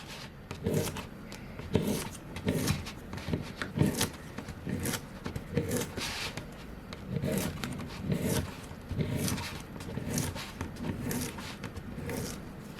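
Stickers being peeled off a sheet one after another, giving repeated short tearing, crinkling strips of sound at close range with no talking.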